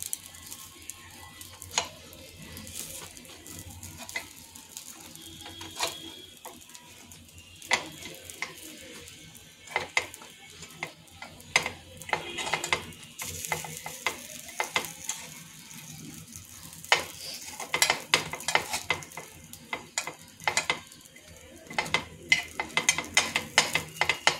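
Appe frying in a covered appe pan, a faint continuous sizzle broken by scattered clicks and scraping taps, growing busier and louder toward the end.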